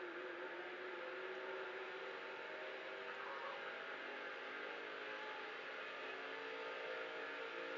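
Stock cars roar in the NASCAR 2005: Chase for the Cup video game at Talladega during the Aaron's 499, a faint, steady, unbroken drone of engines running in a pack.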